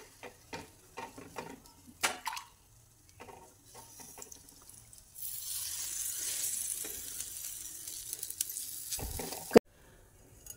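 Water is spread over a bajra bhakri on a hot iron griddle and hisses in a sustained sizzle for several seconds, after quieter tapping and stirring sounds, ending with a sharp clatter.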